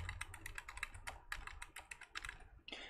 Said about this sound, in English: I'm gonna press the down arrows